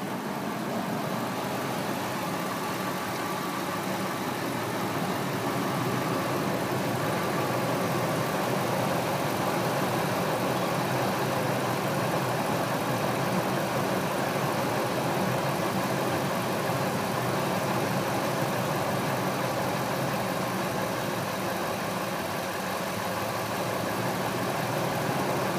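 A 1998 Ford F-150 with the 5.4 engine idles, giving a steady, loud, close mechanical drone that holds constant throughout with no talk.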